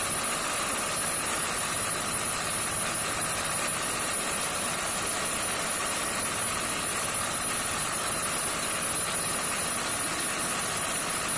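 A Bomet potato digger works through a weedy potato field, giving a steady, unbroken mechanical drone with a broad rushing hiss and no voices, unchanged in level throughout.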